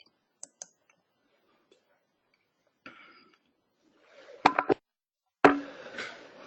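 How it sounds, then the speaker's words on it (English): Sparse clicks of typing on a computer keyboard, a few isolated taps followed by short bursts of keystrokes and clatter, close and fairly quiet with no talking. "I was typing for the past few minutes, that's why I have not been talking."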